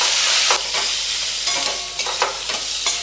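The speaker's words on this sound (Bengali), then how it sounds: "এবার জিরের গুঁড়ো 1 চামচ, ধনের গুঁড়ো 1 চামচ, কষিয়ে নেব ভালো করে।" Cumin and coriander powder sautéing in oil in a pan over low heat, a steady close sizzle with a few scraping stirs rising above it, loud and without speech.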